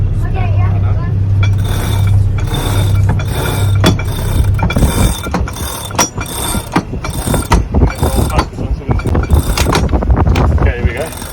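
A sailboat winch ratchets in bursts of rapid clicking as the sails are set, close and loud over steady motor hum, with people talking throughout.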